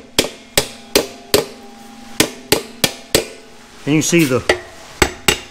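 Sharp metal hammer blows strike a stuck rear brake drum on a Chevy Nova, about a dozen close, loud, evenly spaced hits, with someone briefly speaking between them.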